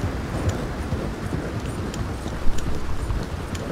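Horse galloping in Red Dead Redemption, a steady rapid patter of hoofbeats under a rumbling, noisy background, with one slightly louder thud midway.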